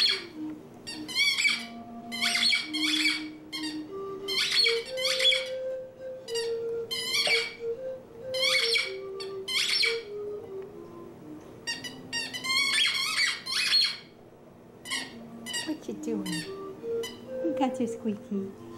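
A dog's squeaky toy gives repeated sharp squeaks in quick clusters, a second or so apart, over a sustained voiced tone with a person present nearby.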